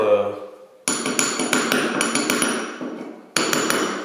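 Repeated sharp hammer blows on a chisel trimming protruding parquet flooring strips in a living room, a run of distinct metallic taps in uneven rhythm, close and loud, after a brief pause at the start, with a voice talking briefly beforehand.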